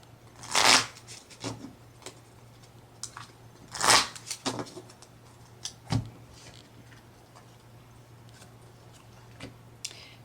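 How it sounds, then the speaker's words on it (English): Pokemon trading cards riffle-shuffled in two quick bursts, followed by scattered light taps and card clicks, close and otherwise quiet. "always make sure to shuffle it up."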